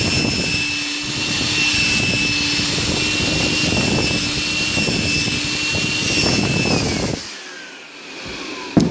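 A Milwaukee M12 compact cordless vacuum runs close by with a loud, steady whirring whine, then switches off and winds down near the end.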